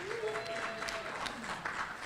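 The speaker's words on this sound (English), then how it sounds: "Round of applause." Audience applause at a state party quarterly meeting, a steady wash of clapping over about two seconds with voices mixed in underneath.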